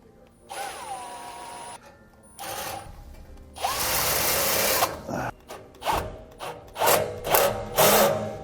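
A power tool whirs in short bursts while tightening clamps on Air Lift LoadLifter 5000 helper springs on a 2006 Winnebago, close and fairly loud, with longer runs and quick stop-start pulses.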